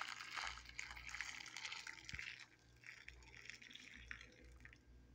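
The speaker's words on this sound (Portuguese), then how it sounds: "Vou jogar aqui uma água já fervendo." Boiling water is poured over a cleaned fish in a home kitchen, a faint, steady trickle and splash of liquid with a few drips, quiet and close.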